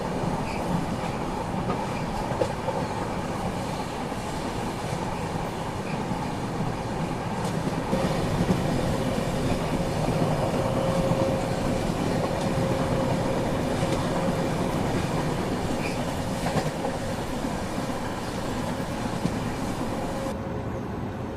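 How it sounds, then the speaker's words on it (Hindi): The Trivandrum Rajdhani Express passenger train crossing a goods train at a station, heard from on board as a steady, continuous rumble and rail clatter with occasional faint squeals and knocks throughout. "बाकी यहाँ पे गुड्स ट्रेन के साथ अपनी क्रॉसिंग हुई"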